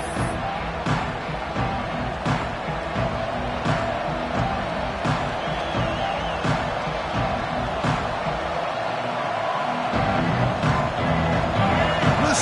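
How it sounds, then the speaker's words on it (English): A stadium crowd in the College Football 26 video game keeps up a dense, steady roar of cheering and chanting throughout, broken by scattered sharp thuds. "Listen to the crowd energy here in the early going."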